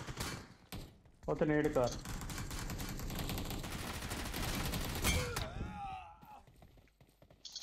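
Rapid bursts of gunfire in PUBG Mobile, dense and loud through the middle, with a sharp shot near the end and voices talking over the action.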